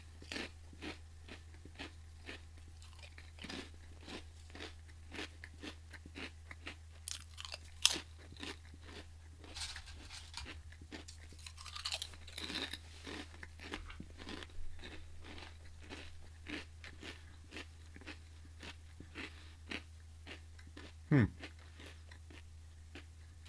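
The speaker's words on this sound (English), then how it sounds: "Grab a mouthful of crisps." Someone chews a mouthful of potato crisps close to the mic, a steady run of crisp crunches over several seconds above a low electrical hum.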